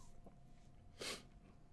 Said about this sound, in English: Did my brother just sneeze?